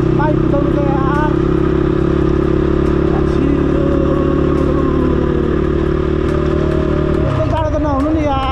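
A motorcycle ridden on a cold winter day drones with a loud, steady engine hum that shifts pitch near the end, while a rider talks over it.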